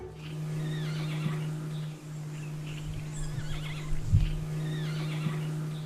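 A jay softly mimics a horse's whinny, giving a few quiet neigh-like calls over a steady low hum.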